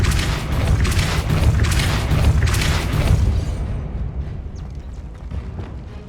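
A Depulso spell in Hogwarts Legacy goes off as a heavy, rumbling magical blast that lingers for several seconds, then thins into a fading hiss with no talk over it.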